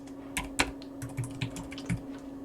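Keys tapped on a computer keyboard in a short, uneven burst of close, crisp clicks over a quiet background.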